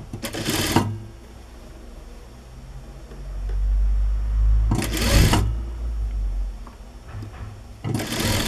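An electric sewing machine stitches the seam of a six-panel-skirt dress in three short bursts of fast, loud mechanical whirring, with quieter low rumbling between them.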